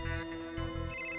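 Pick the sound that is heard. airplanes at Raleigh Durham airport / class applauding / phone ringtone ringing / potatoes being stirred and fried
phone ringtone ringing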